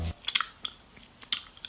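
Crunchy protein insects being chewed close up, with a few sharp crisp crunches and bites at an irregular pace and no talk.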